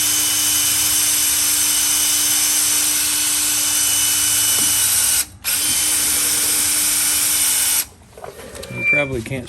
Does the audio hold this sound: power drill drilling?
yes